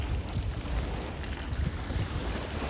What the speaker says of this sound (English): Pretty good wind this morning, 13 miles an hour.